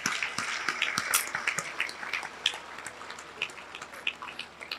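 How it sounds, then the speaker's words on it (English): An audience claps for a conferee at a chartered accountants' fellowship conferment ceremony, soft scattered applause at a distance, irregular pats without a strong swell. "So please clap for her once more."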